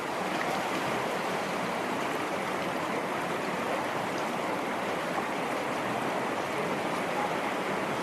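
River water on Vancouver Island rushes past in a constant, even wash of broadband noise, steady and unbroken throughout with no voices.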